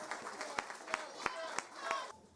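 A small audience gives a short round of applause for the Honorable Eugene Hamilton at a formal event: faint, scattered claps with a few sharper hand strikes, ending abruptly.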